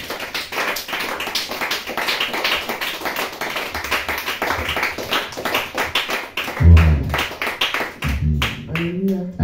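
Church congregation clapping in rhythmic acclaim, dense steady hand claps close and loud, with voices rising underneath toward the end.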